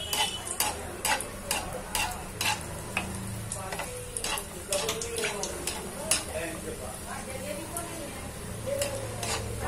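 Sambar wadi roasting in hot oil in a pan, a steady close sizzle and frying crackle with frequent sharp taps and scrapes of a stirring utensil, faint voice murmuring underneath.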